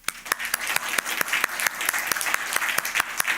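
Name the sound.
congregation applauding in church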